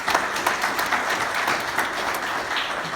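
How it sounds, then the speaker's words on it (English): Audience applause breaks out at a club championship draw event in Cavan, a steady burst of clapping from a room of people that runs without pause for the whole stretch. "Give him a big round of applause, ladies and gentlemen."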